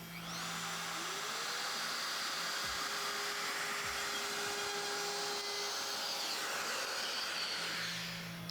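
A Vac Sys vacuum clamping system in a woodworking shop starts up and runs with a steady, whining motor drone that holds level for several seconds before winding down.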